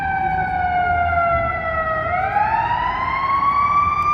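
An ambulance siren wails past on a Chicago street, a loud sweeping tone that drops and then rises again over steady traffic rumble.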